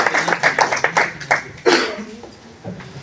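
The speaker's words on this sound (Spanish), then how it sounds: "un aplauso por favor para nuestro invitado" An audience at a public finance talk on Ecuador's 2024 state budget applauds its guest speaker, a brief burst of clapping that fades out over a few seconds.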